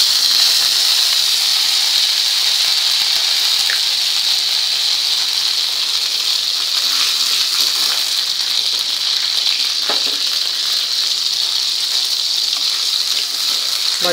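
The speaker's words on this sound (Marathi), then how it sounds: "आता आपण याच्यात आणखी बटर घालून घेऊया भाजीला।" Butter melts into pav bhaji vegetables cooking in a pan, a steady, fairly loud sizzling hiss that continues throughout with a few faint clicks and no talking.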